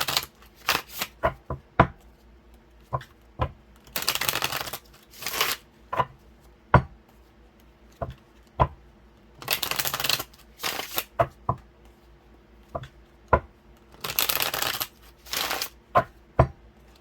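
Tarot cards from the Dream Keeper's Tarot deck being shuffled in repeated bursts of riffling and sharp flicks, with quiet gaps between, close and alone without talk.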